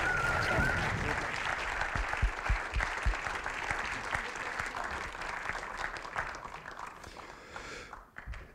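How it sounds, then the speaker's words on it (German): Festival audience applauding after a stage appearance, a dense sustained round of clapping that holds steady and fades out near the end, with a voice briefly over it at the start. "das ist euer Applaus."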